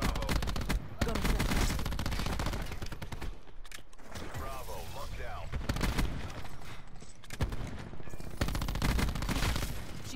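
Rapid bursts of video game gunfire crackle through a competitive online shooter match, sharp repeated shots and fusillades running nearly continuously at close range, with players talking over the action.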